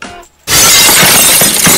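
Glass shatters loudly and close, a sudden burst after a brief quiet moment, with a dense spray of breaking shards that rings on for over a second before cutting off.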